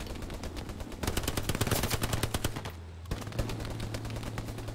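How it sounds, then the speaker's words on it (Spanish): Rapid gunfire rattles in the World War II shooter game Hell Let Loose, a dense burst of automatic shots that starts suddenly, cuts off briefly, and then gives way to a steady low hum. "sí, voy a disparar algo"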